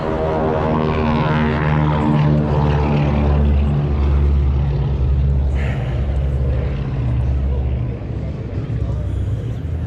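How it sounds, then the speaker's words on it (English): A twin-engine plane with radial engines drones steadily at an airshow, its low throbbing engine note holding for several seconds before fading slightly. "Some kind of twin engine plane with radials on it."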